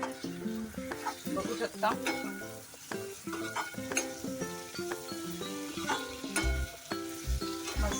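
Kantoli, a monsoon wild vegetable, is stirred with fresh coriander in a frying pan, giving a steady sizzle with repeated scraping strokes of a spatula and occasional clinks against the pan, while a voice talks briefly over it.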